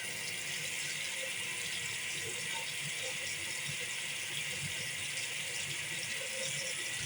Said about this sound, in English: the water that comes out of my kitchen tap right now